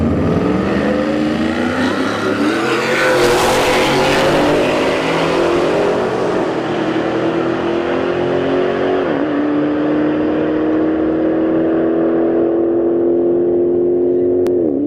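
A Ford F-150 pickup and a Dodge Challenger Hellcat launch side by side at a drag strip test-and-tune, engines roaring loudly through a long run of rising revs and gear changes that slowly fade into the distance.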